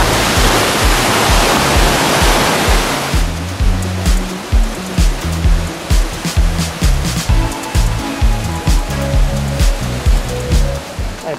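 Loud rushing water of the Cachoeira da Velha waterfall on the Rio Novo in Jalapão, a dense steady roar that gives way to rhythmic pulsing surges and splashes.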